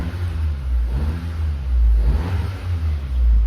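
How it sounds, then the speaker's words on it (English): A car engine revs up twice in low throaty surges, idling between them, close by with no talking. "you're gonna give it a couple revs"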